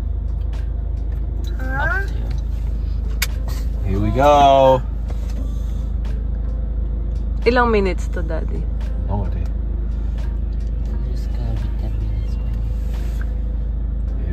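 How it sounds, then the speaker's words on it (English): A car engine idles at a touchless car wash in a low, steady rumble that holds for the whole stretch, while people talk and call out now and then over it. "You didn't turn your engine off?"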